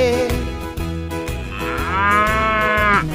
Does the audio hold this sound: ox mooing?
yes